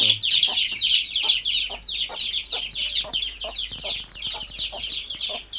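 Chickens in a duck and chicken coop cluck and squawk in quick repeated bursts, close and lively, with no talking.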